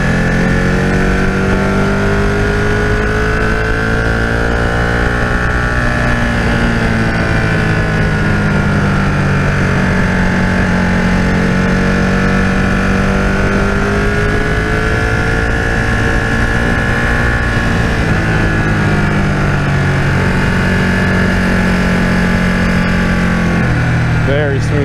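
A 2015 Ducati 1299S motorcycle engine drones steadily while riding, a loud continuous hum with slowly shifting pitch as the revs rise and fall, close and constant for the whole stretch.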